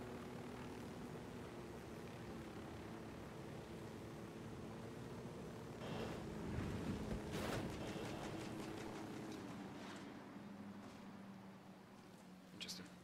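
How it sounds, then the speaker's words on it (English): A supply helicopter flying in the video game Ghost Recon Wildlands, its rotor and engine drone holding steady and swelling briefly midway, with a voice talking over it. "Don't know how I missed this supply chopper"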